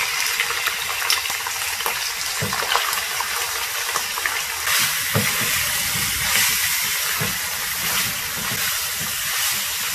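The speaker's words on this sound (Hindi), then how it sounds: "इसमें अब हम ये बोटियाँ डाल के इसको 2 मिनट तलेंगे।" Meat pieces (botiyan) fry in half a cup of hot oil for Lebanese tikka, a loud, continuous close sizzle with a bubbling hiss throughout.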